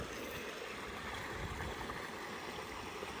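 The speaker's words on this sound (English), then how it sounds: "You can see the creek." A mountain creek in the Colorado Rockies rushing in a steady, broadband wash of flowing water, constant and fairly close with no pauses and no voices.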